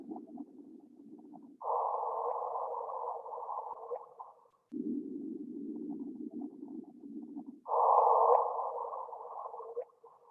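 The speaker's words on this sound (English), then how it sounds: "that chirp that you see is the two black holes are orbiting each other and then gradually getting closer" A gravitational-wave chirp from two orbiting black holes merging, scaled up into audible tones, plays as a low hum alternating with a higher steady tone in long sustained segments, clean and isolated with no voices.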